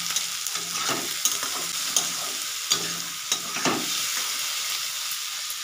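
Green chillies frying in a pan for egg chowmein sizzle steadily up close, broken by a rhythmic series of spatula stirs and light clinks against the metal.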